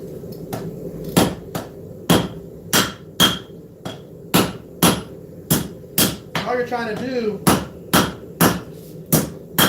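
A hammer strikes metal in a forging shop with sharp, evenly spaced blows, about two per second, close and loud, while someone talks briefly between strikes.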